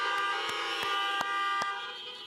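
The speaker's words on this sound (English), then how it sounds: "we want to hear your horns, honk your horns" Many car horns honking together in place of clapping at an outdoor graduation ceremony, a sustained overlapping chorus of tones with several sharper toots punching through.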